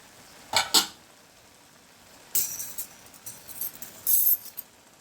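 A spoon scrapes and clinks against a pan while a vegetable thoran is stirred, short metallic bursts separated by quiet pauses, close and clear without any talk.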